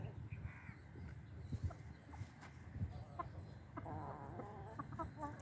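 A laying hen clucks in short, scattered calls close by, with other fowl sounds and faint background noise around it.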